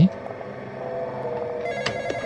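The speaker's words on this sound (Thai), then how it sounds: "โทรศัพท์มา" A telephone rings in the Roblox horror game The Intruder, an electronic ring sounding clearly over low ambient game sound.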